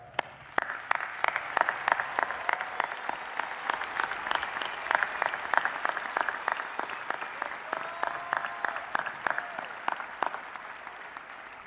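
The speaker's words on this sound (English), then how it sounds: "please join me in a round of applause for all of our graduates" University commencement graduates receive steady applause from a large crowd, with many separate claps ringing out in a fairly even rhythm that holds for the whole stretch and fades a little near the end.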